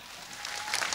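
An audience at a 1993 Thai stage comedy show claps, a brief burst of applause that swells louder over one second.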